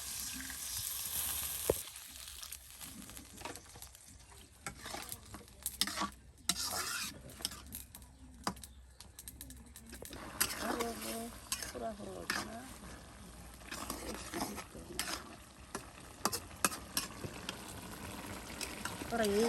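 Chickpeas fry with onions and chillies in a pan, a steady sizzle broken by stirring scrapes and clatter, while people talk nearby.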